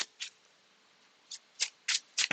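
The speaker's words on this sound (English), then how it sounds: "Let's just shuffle these first, get a card out." A deck of tarot cards is shuffled by hand in a series of short, crisp riffling bursts, one early then four more in quick succession, close and clear with no talking over them.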